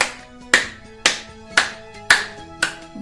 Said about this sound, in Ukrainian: І ми будемо з вами плескати у долоньки